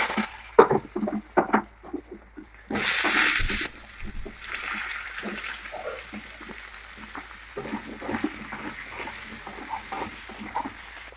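Sliced potatoes sizzling in hot oil with white cumin seeds, a steady close frying hiss with scattered stirring scrapes and a louder burst of sizzle as something is added partway through.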